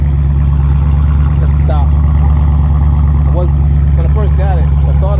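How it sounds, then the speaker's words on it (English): A 2016 Dodge Challenger Scat Pack with its stock exhaust idles with a deep, steady low rumble, while someone talks briefly over it. "it's still pretty deep for a stock exhaust"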